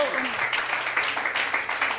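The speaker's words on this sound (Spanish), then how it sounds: "un aplauso al Señor" Applause from a church congregation during a Spanish-language sermon, a steady broadband wash of clapping filling the two seconds at moderate loudness, with a voice briefly audible underneath at the start.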